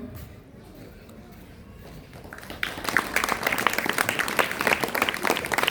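Applause from a crowd at a school felicitation ceremony starts softly and swells into loud, steady clapping that continues to the end.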